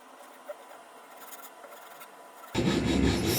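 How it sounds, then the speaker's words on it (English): A hand file rasps across a wooden desk leg with a soft scraping rub, then breaks into louder, coarser strokes close by for the last second. "Just trying to give it some shape using a filer."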